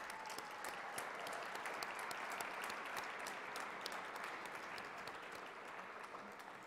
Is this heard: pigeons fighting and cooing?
no